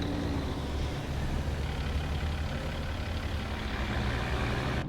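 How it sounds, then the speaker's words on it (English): A Kenworth K100 truck engine rumbles in American Truck Simulator. It is a steady, low, continuous diesel idle with no voices over it. "let me hop back out and fire up the truck for you here"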